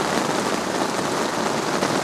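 Steady rain drums on a Dhaulagiri Terra Pro 4 camping tent, an even, dense hiss of drops on the fabric with no breaks.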